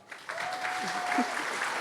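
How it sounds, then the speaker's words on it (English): A crowd at a community event applauds a participant, a short steady round of clapping that starts abruptly and holds even, with a faint tonal whine and a brief voice underneath. "Will you give her a round of applause?"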